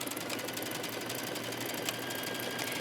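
A sewing machine stitches knit fabric with mesh inserts for a yoga top, a steady rapid mechanical whir running close and continuous without pause.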